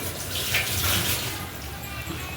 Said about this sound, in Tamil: குழம்பு நல்லா கொதி வந்துடுச்சு